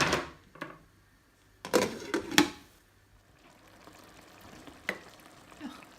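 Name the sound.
chopped tomatoes stirred and frying in spice masala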